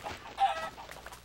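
Chicken clucking in Minecraft, a short burst of a single fowl's clucks, fairly quiet and heard on its own without talk.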